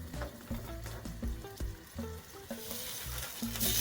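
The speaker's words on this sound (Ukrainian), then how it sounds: "змащуємо масличком і смажимо далі" Dough made of water, flour and cheese sizzles and crackles in hot oil, with irregular pops and bursts of frying noise close by.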